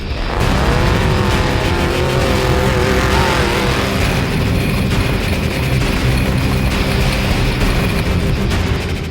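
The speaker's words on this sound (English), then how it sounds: "piloting his truck through the qualifying course at breakneck speeds" A desert racing truck tearing through a qualifying course at high speed during the General Tire Mint 400, its engine roaring loud and close with a rising, revving whine throughout.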